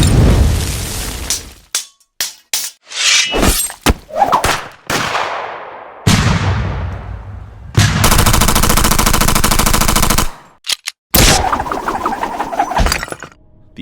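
Military weapons sound effects: bursts of machine-gun fire, single gunshots, ricochets and booming explosions with decaying rumbles, separated by short silences, loud and close, no talking.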